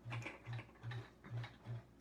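A quilting sewing machine making a few stitches in place, five short low mechanical thumps in even rhythm, faint and close, with no talking.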